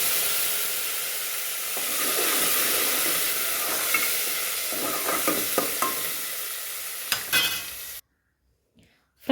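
Hot oil tempering poured over a pan of bhurta sizzles with a broad, steady hiss, crackling in bursts and stirring clatter before cutting off abruptly into near silence.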